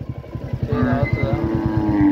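A Royal Enfield Bullet 350 single-cylinder engine thumps in a close, rhythmic low beat as the motorcycle slows, the pulses loud and steady with a rising whine near the end.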